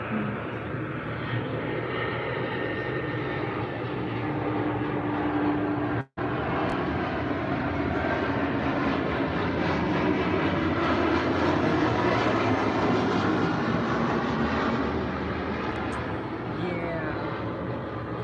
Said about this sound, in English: I didn't know the planes fly right above my house.